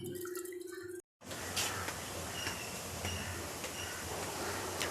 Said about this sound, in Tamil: தண்ணி வந்து நல்லா சூப்பராக குதிச்சிட்ருக்கு